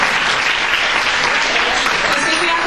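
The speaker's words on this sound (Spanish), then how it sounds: "Un fuerte aplauso así para empezar" An audience at a feminist conference breaks into strong, sustained applause, dense clapping from many hands filling the room at an even level from start to finish.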